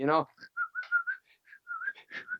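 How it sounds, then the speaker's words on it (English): People whistle a short Dixie melody in a run of clear, bright notes with small gaps between phrases, after a brief voiced sound at the start. "You guys just whistle some Dixie"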